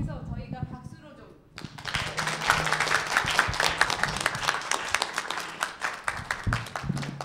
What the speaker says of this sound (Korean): 그래서 저희가 박수로 좀.